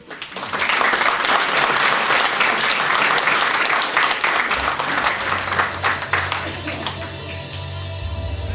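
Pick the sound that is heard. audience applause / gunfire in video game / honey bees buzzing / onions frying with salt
audience applause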